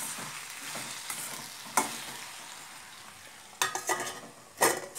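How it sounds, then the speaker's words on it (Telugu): Ridge gourd pieces are stirred and cooked in a pan over a medium flame, with a low frying sizzle and several sharp scraping strokes of a spoon, close and without voices. "ఇవన్నీ ఒకసారి కలుపుకుందాము. కలుపుకొని స్టవ్ని మీడియం ఫ్లేమ్లో పెట్టుకొని ఉడికించుకోవాలి."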